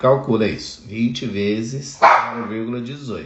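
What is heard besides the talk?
dog barking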